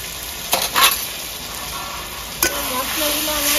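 Onions frying in a pan as salt, turmeric and chili powder are stirred in for chicken dry roast: a loud steady hiss with a few sharp stirring scrapes and clinks, close up, with faint distant voices near the end.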